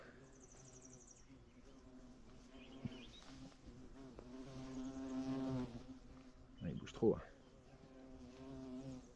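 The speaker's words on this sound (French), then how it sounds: "C'est des abeilles solitaires, c'est des mouches charbon." Low droning buzz of large bee flies and solitary bees hovering close by, rising and falling as they move, with someone speaking briefly over it.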